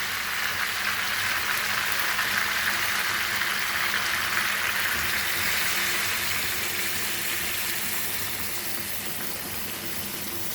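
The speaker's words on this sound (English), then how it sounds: "Let's add hot water now on this." Hot water is poured into a pot of whole chicken being pot-roasted, Goan style, with rice stuffing. It makes a loud, steady, continuous rushing gush that eases slightly toward the end, with no voices.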